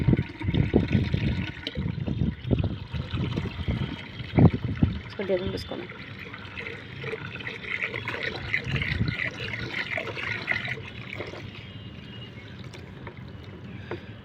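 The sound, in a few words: water poured into fertilizer mix for potted eggplant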